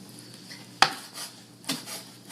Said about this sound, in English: So we just take some old kimchi and we chop it up.